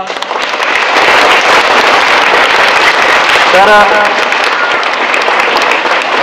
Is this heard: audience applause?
yes